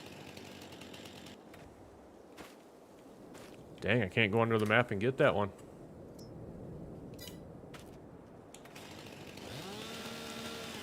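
A chainsaw in the Farming Simulator 22 video game runs in one loud, harmonic-rich burst of about a second and a half near the middle, with someone talking before and after.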